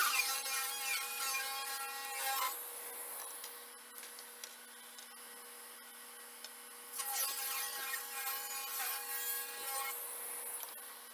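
Saw ripping scrap wood into strips, in two loud bursts of high-pitched cutting separated by a quieter stretch of running motor, with no talk.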